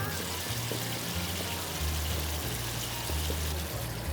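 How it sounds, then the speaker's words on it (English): Fragrant jaggery syrup pours steadily into a bowl of tomato chaat, a close, continuous liquid stream with a soft trickling texture and no talking. "I'm gonna add this lovely fragrant Jaggery syrup and balance those senses"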